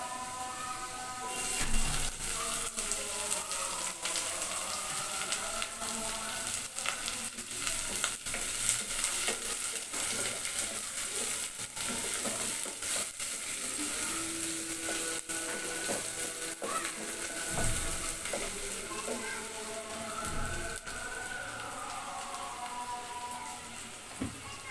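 Onion frying in oil with garlic in a pan, a loud, steady crackling sizzle layered with frequent scraping stir strokes, close and continuous throughout.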